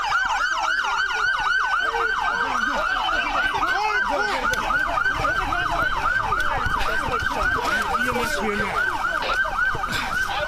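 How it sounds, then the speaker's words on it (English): Loud, continuous wailing police and EMS sirens, rising and falling steadily throughout, close by with some road noise underneath. "Turn the sirens off."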